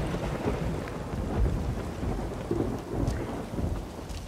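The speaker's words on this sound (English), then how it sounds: "Still raining." Rain pours and thunder rumbles in The Witcher 3, a heavy, continuous downpour with deep rolling booms swelling and fading several times, loud and close.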